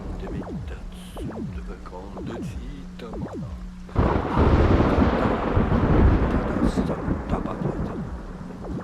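A thunderstorm in the video game Beholder 2: quiet ambience with sharp tonal blips gives way to a sudden loud thunder crack followed by heavy sustained rain and rumbling.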